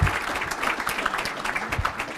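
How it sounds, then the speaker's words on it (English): Audience applause at a high school signing day ceremony, a dense steady clapping from a crowd filling the room at moderate volume throughout. "Ladies and gentlemen, give a round of applause."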